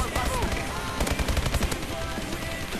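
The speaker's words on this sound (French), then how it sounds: "C'est le mec qui tire n'importe comment, je comprends pas." Dense video game gunfire in a tactical shooter round, with rapid overlapping automatic bursts and shots crackling throughout, fairly loud and continuous with faint background voices.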